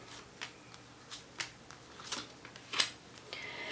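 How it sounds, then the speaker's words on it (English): Tarot cards being shuffled by hand at a reading table, a series of soft, quiet riffling bursts and flicks spaced irregularly over a few seconds, close and alone without speech. "So one shuffle for you."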